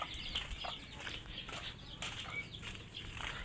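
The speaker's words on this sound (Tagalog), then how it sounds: "update po sa ating mga manok" Well-grown chickens moving about, with faint scattered clucks and occasional wing flaps over a steady outdoor background hum.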